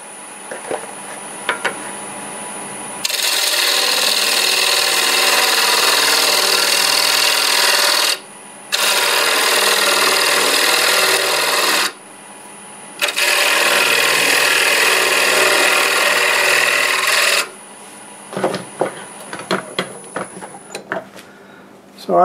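A wood lathe turns a bowl while a tool cuts a tenon, giving three long, loud, steady scraping runs with short breaks, followed by quieter scattered handling noises.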